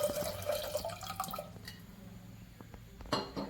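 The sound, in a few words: water poured onto dal for pressure cooker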